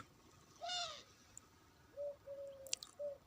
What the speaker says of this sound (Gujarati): પક્ષીઓનો કલરવ